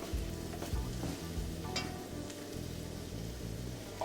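Carrots coat and cook in butter in a pan, giving a steady soft sizzle with a few stirring scrapes, fairly quiet and continuous.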